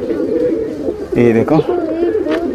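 Pigeons coo softly in a breeding cage, low rolling calls repeating close by while someone talks over them.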